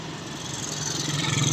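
A steady engine drone from a Putra Pelangi bus running in a convoy of buses in Aceh, a continuous low rumble that swells slightly louder over a short stretch with no voices.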